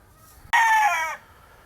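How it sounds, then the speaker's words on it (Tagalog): A rooster in a breeding setting crows once, a loud close burst of about half a second that cuts off sharply against quiet surroundings. "Dito sa tandang na to."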